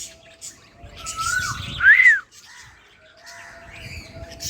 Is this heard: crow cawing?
yes